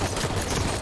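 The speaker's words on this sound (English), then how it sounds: "Watch enemy fire." Enemy gunfire in a video game, a dense, continuous rattle of shots that stays loud throughout.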